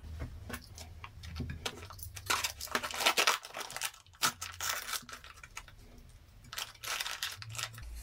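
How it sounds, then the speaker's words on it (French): Adhesive tape, baked on in an oven, is peeled and torn off an engine casing in short crackling rips and crinkles, close and irregular, with quiet gaps between pulls. "On va enlever tous les scotch."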